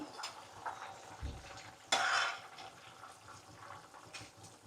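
A spoon stirs kanda bachali curry in a cooking pot, giving soft scraping and a sharp metallic clatter midway over a quiet simmering background.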